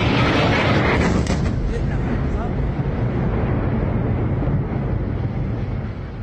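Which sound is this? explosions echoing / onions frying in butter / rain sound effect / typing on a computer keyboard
explosions echoing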